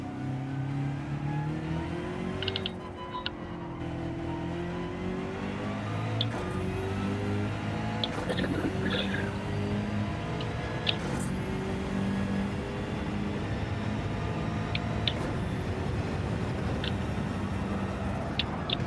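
Racing car engine in Gran Turismo 7 during a rainy race, a steady, fairly quiet whine that rises and falls with gear changes and revving, occasional brief sharp clicks on top and no talking.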